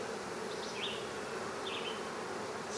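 Honey bees buzzing around an opened hive during a nuc transfer into hive boxes, a soft, continuous droning hum with a few individual bees passing close by.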